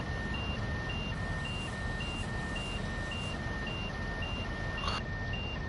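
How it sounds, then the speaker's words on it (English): A steady, evenly spaced electronic emergency brake warning beep repeats over a loud, constant rumble of a high-speed train in a simulator game, with no voices. "That is the sound of the emergency brake."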